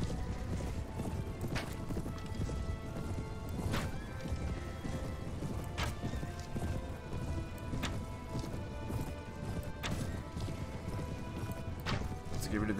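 A fast horse gallops in Mount & Blade Warband, hooves pounding in a steady rhythm beneath dense battle noise, with sharp impacts recurring about every two seconds.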